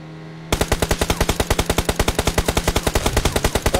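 Rapid automatic gunfire from a shooting video game, a loud steady burst of evenly spaced shots running nearly four seconds after a brief quiet start.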